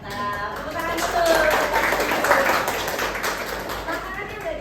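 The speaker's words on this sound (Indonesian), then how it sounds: "Tepuk tangan dulu." A small group claps at a student nutrition outreach session on balanced meals, a short burst of applause rising in the middle and fading, mixed with people talking.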